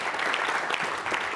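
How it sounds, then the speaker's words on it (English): Steady applause from an audience at a city council meeting honoring the NCAA Division III national soccer champions, dense and continuous with no gaps. "let's hear a round of applause"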